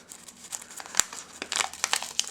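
Thin carbon copy paper crinkles and rustles as it is handled, a steady run of close crackly rustles with a few sharper snaps, no voice over it.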